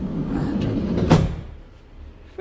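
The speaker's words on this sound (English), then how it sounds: "Fitted the sliding door." A Volkswagen T4 van's sliding door gives one solid slam or clunk midway, following a low rumbling slide, close by with no talk.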